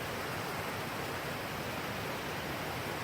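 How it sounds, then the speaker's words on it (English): Steady broadband rush of a river and small creek running nearby in a Washington rainforest, constant and enveloping, with no breaks or voices. "From my camp, I hear a river below me and a small creek next to me."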